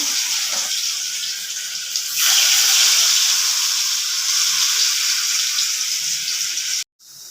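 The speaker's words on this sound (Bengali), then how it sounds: "এবার আমি ভাজাগুলি সব ভেজে নেব কড়াইতেও তেল দিয়ে দিয়েছি" Vegetables rubbed with salt and turmeric fry in hot oil in a wok, giving a steady, close, hissing sizzle that swells louder partway through and cuts off abruptly near the end, with no talking.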